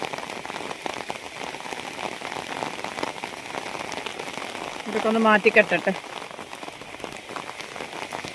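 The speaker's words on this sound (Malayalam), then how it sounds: "മൊത്തം മഴ തന്നെയാണ്" Rain patters steadily on a surface throughout, with a person speaking briefly over it and a short bird-like chirping burst in the middle.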